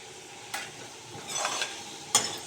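Masala frying for crab sukka, a low background sizzle broken by a few sharp bursts of spatula scraping and hissing as the mixture is turned in the pan, close and without speech.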